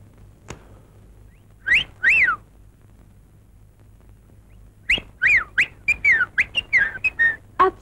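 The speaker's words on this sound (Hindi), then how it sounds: "आप सीटी बहुत अच्छी बजाते हैं।" A person whistles a lively tune in a 1960 Hindi film, with a short pair of notes first and then a quicker run of bright, clear notes, close and alone in a quiet room.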